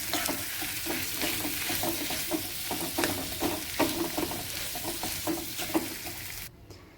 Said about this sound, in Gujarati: બટાકા નાખીને બધું મિક્સ કરીશું.